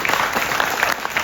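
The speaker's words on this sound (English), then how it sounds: "one big round of applause" An audience applauds a group on stage, a brisk, close wash of clapping hands that holds steady throughout the short burst.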